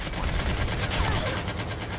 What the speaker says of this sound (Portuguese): É muito caro atirando em mim.